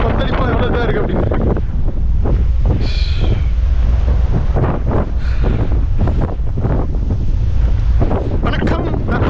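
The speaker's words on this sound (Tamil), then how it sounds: "இதெல்லாம் அலைகள் கிடையாது, என்ன அந்த கடலோட சீற்றம் கொந்தளிப்பு" Rough, turbulent sea in the Drake Passage on the way to Antarctica, heard from a ship: heavy wind buffeting the microphone over crashing, surging waves, loud and constant, with scattered voices.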